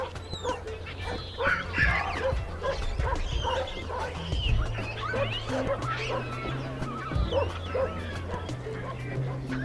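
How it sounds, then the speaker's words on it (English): Feral dogs at a refuse dump bark, yip and whimper in a busy overlapping chorus, several animals at close to middle distance, with a low steady hum underneath. "They share the site with Taif's band of feral dogs."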